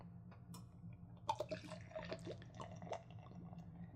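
Beer poured from a bottle, a faint, close gurgling and splashing trickle with small drips and fizz running through.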